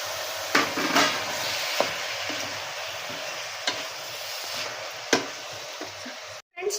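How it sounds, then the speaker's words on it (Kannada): Chopped tomatoes frying in a pan give a steady, close sizzle, with occasional sharp taps and scrapes from a spoon stirring them and no voices. "ಈಗ ಇದನ್ನು ನೀಟಾಗಿ ಮಿಕ್ಸ್ ಮಾಡ್ಕೊಂಡ್ಬಿಡಿ"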